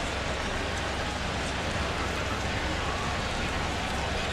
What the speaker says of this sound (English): It has just started to rain here.